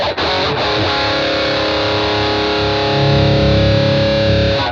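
A heavily distorted electric guitar through a BOSS GT-1000 EQ, cut at 125 Hz, 500 Hz, 1 kHz and 2 kHz and boosted at 4 kHz, rings out in a loud sustained chord after a couple of quick strums, with a thick, filtered tone.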